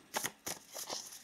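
Tarot cards being shuffled by hand, a few quick soft riffling bursts, faint and close with no speech.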